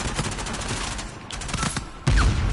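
Dense rattling gunfire in Uncharted 4 multiplayer, sustained automatic bursts near and loud, capped by a heavy booming explosion that holds to the end.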